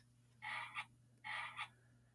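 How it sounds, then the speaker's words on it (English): A frog croaks from a lily pad at a garden pond, giving two distinct raspy croak bursts about three-quarters of a second apart, each swelling and ending with a brief peak, fairly clear over a low steady hum. "While a frog sits croaking on a lily pad."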